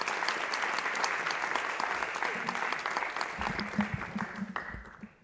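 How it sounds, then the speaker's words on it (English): A conference audience gives a steady wave of applause for an entrepreneurship event's organiser in the evening, dense and sustained for several seconds before thinning into a few scattered claps and muffled room noise near the end. "I'd like a wave of applause for the man who made this conference possible tonight, Vincent Lefebvre"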